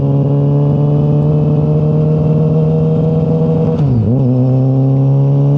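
A Yamaha R6 motorcycle engine at low RPM, a low, steady idle with a deep, uneven thrum like a three-cylinder, dipping briefly in pitch near the end before settling back to the same rumble.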